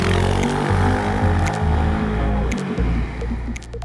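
A Kymco X-Town 300 scooter engine drones steadily up close, its pitch rising and dipping slightly as it rides along, with wind noise over the motor.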